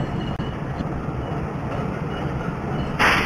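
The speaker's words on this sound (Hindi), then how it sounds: "तो धीरे धीरे हमारा जो ट्रेन है वंदे भारत एक्सप्रेस, जो कि डीजल लोकोमोटिव के साथ, अभी धीरे धीरे स्टेशन से डिपार्ट कर रही है" Vande Bharat Express hauled by a WDG3A diesel locomotive slowly departing a station in a train simulator game, a steady low rumbling drone with a brief brighter burst near the end.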